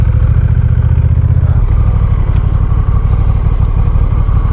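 Honda Rebel 1100T cruiser motorcycle ridden in sport mode, its engine throbbing loud and close with a steady low rumble and a brief shift in tone partway through.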